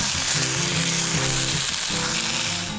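Sausages sizzle and spit in a pan on a camp stove at a rainy Banff campsite, a steady dense crackle filling the whole moment, close and loud, with a low hum of background voices beneath.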